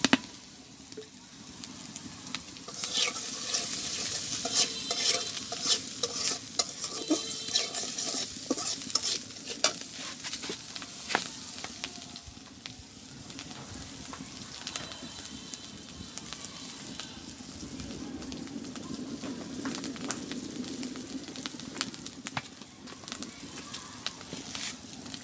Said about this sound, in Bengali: তো আমার মশলাটা সুন্দর করে কষানো হয়ে গেছে